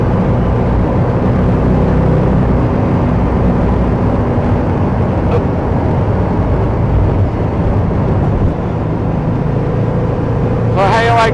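A 1956 Chevy Bel Air two-door hardtop cruises along with a steady, loud engine and road drone that holds evenly throughout, heard from inside the car.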